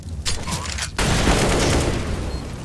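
Counter-Strike gunfire from a FACEIT match, heard as a few quick sharp shots followed by a loud, sustained roar of rapid fire filling the rest of the moment, with no talk over it.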